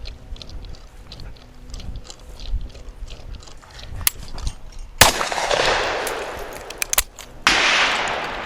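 Shotgun blasts at a quail walk shooting station ring out twice, sharp reports near 5 and 7.5 seconds, each followed by a broad rumbling decay, after quieter rustling and footsteps outdoors.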